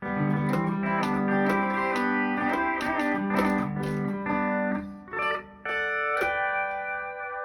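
Sustained, gliding pedal-steel-style guitar chords played on a six-string guitar, with bending, steel-like tones, several strummed and swelling notes ringing out close with no talking.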